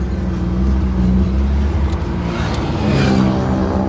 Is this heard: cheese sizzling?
no